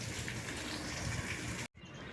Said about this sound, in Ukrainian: Ось такий фонтанчик.